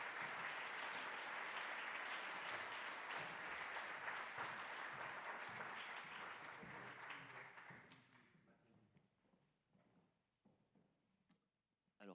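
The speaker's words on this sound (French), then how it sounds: "Je vous propose d'applaudir Pierre Rosanvallon" Conference audience applauding Pierre Rosanvallon, a dense, steady roar of clapping that holds for about eight seconds, then thins into scattered claps and fades out.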